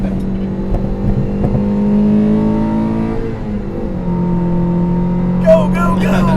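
A 2003 Toyota MR2 Spyder engine hums steadily with a smooth, sustained drone. It swells slightly as it revs, and a few faint bits of background noise come near the end.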